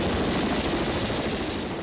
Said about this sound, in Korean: 흔들리는 함정에서 좁은 헬기 데크를 통해 이착륙을 한다는 것은 쉽지 않은 일.